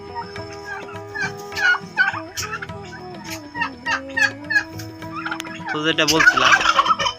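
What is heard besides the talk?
turkeys gobbling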